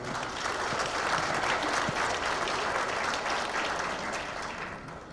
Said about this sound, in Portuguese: Salva de palmas, prefeito.